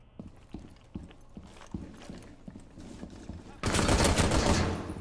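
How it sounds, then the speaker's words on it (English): Gunfire from a new weapon in the video game Rainbow Six Siege, starting as evenly spaced single shots under quieter game sounds, then breaking into a loud, dense burst of rapid fire near the end. "This gun sounds amazing."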